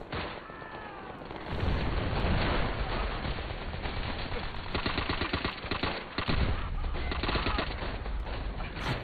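Rapid gunfire and explosions fill a Call of Duty: World at War firefight in an insane asylum, with dense bursts of shots and booms running loud and continuous throughout.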